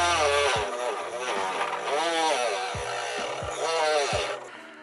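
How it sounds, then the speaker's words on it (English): A Harbor Freight rotary tool whines at high speed as it cuts away part of a Honda Element hood latch pull, its pitch dipping and rising as it bites into the material, with intermittent low thuds, close and fairly loud. "we're busting out the old Harbor Freight Dremel here."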